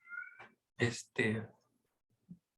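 A female cat shut inside a room meows loudly several times at close range, with three distinct calls followed by a faint short one.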